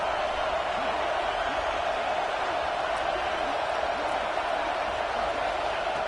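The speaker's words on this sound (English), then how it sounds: "This crowd is trying to inspire this defense to make a big red" Steady roar of a stadium crowd in the NCAA 26 football video game during a Texas vs. Penn State red zone stand, a dense, constant wash of noise holding at the same level throughout with no clear voices.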